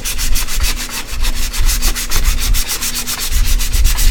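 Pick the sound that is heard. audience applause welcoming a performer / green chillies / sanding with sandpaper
sanding with sandpaper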